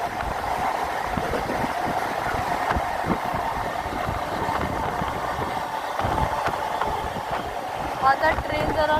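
An Andheri–Virar double fast EMU suburban train runs at around 100 km/h, a steady loud rumble with rattling and rhythmic wheel clatter throughout, heard from inside the carriage.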